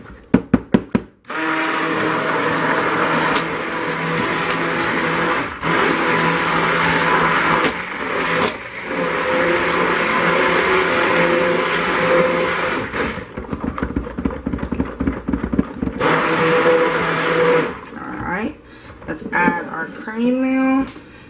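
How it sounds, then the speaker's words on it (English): Stick blender buzzing through cold process soap batter of oils and lye, a loud steady whirring drone in several long bursts with brief pauses, ending in short pulses. "give me something for my stick blender. Alright guys, so let's go ahead and get this buzzed up"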